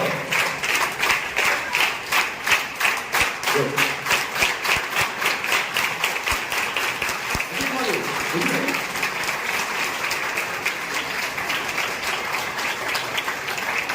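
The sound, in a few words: applause at an honouring ceremony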